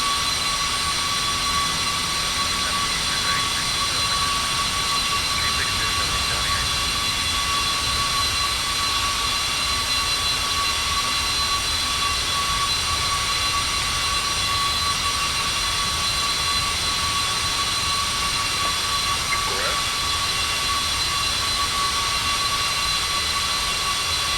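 Steady whine and roar of Cessna Citation II jet engines in the X-Plane 11 flight simulator, a continuous spooled-up drone with a sharp high tone, holding evenly for the whole stretch with no voices.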